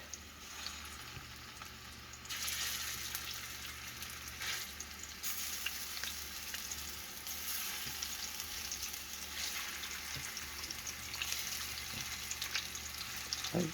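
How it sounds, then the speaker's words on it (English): Venison meatballs fry in vegetable oil with a steady, close crackling sizzle that swells slightly after the first couple of seconds and carries on alone. "Alright, the meatballs fried up."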